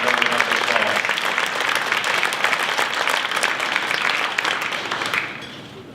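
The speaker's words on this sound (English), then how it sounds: "Let's give them all a round of applause." A banquet audience at an awards evening applauds a group of youngsters, dense sustained clapping that fills the room evenly for about five seconds before tapering off quickly.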